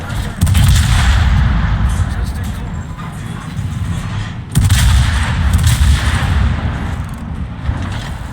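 Naval guns fire in a warship video game, with two heavy rumbling salvos a few seconds apart rolling loud and close, and faint voices murmuring underneath.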